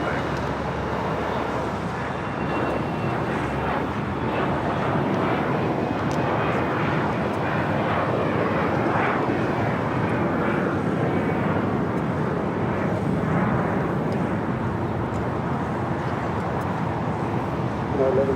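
A KLM Boeing 777-300ER jet departs LAX bound for Amsterdam, its engines producing a broad, steady roar that holds strong across the whole stretch at the airport, with faint radio chatter underneath.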